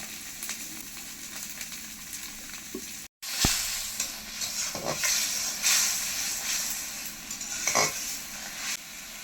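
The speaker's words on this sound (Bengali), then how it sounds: "মশলা ভালোভাবে কষানো হয়ে গেছে" Ground chili, coriander and Kashmiri chili fry in oil for a fish roe curry, a continuous hiss and sizzle broken by occasional scraping stirs, close, briefly cut off near the start, with no voices.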